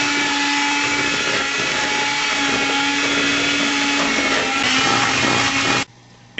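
An electric mixer running at low speed through cake batter, a steady close whirring motor hum that stops abruptly near the end.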